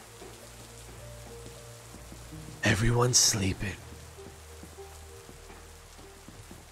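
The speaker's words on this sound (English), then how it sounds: "It's a rainy night. A rainy morning." Steady rain falls at night in a city in the video game H-Hour: World's Elite, a soft constant patter throughout, briefly covered by a voice speaking in the middle.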